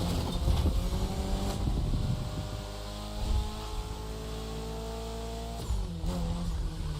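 Mitsubishi Evo driving in The Crew Motorfest on a neon-lit Japanese track, a steady low engine drone with sustained harmonic tones that shift pitch as it accelerates and shifts, loud and continuous throughout.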